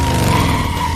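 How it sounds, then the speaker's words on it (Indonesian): A car in the 2003 film Daredevil skids out of control, tires squealing loudly and steadily with a heavy engine roar underneath, close up and without voices. "mobilnya kehilangan kendali dan menabrak mobil lain"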